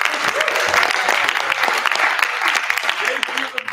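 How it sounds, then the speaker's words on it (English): Loud, sustained applause from a show audience, a dense wash of clapping that holds steady for several seconds, with a few voices mixed in. "Do we have a round of applause for Kaylee, Garrett, and Brett?"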